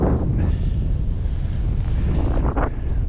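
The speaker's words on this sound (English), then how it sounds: "The Derwent Valley, it's windy as hell." Strong wind gusts across the open Derwent Valley on a snowy winter walk, a loud continuous roar buffeting the microphone throughout with no voices.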